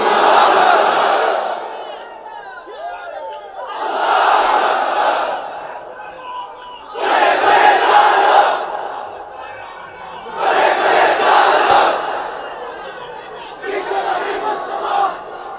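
A large crowd at an Islamic sermon gathering chants takbir in unison, five loud swelling responses repeating in a steady rhythm with short pauses between them.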